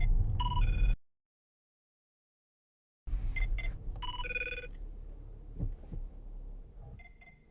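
Phone ringtone sounding inside an Audi Q7 3.0 TDI S line Plus quattro during a car review, repeated electronic ring bursts over cabin hum, cut off by silence and then resuming in several short ringing pulses.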